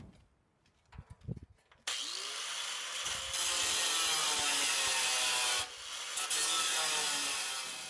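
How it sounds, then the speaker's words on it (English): A cutoff wheel on a grinder slices through sheet metal on a vintage steel glider, a loud, close, continuous high-pitched grinding whine that starts abruptly after a few quiet handling knocks and briefly dips before resuming. "That's where I'm going to cut with the grinding wheel, well, the cutoff wheel, and we'll get rid of that nasty sheet metal."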